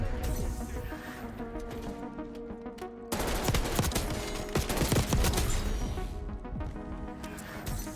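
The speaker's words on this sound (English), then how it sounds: "We're just testing guns at the moment." Submachine gun fire in Black Ops 6 multiplayer, dense rapid automatic bursts over a constant loud wash of game noise, continuous with heavier volleys in the second half.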